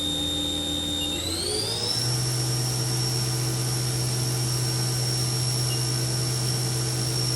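The spindle of a new 2003 HAAS VF-1 CNC vertical machining center ramps up to 7,500 RPM, its whine sliding upward for a second before settling into a loud, steady high-pitched tone with a constant hum beneath, no voices.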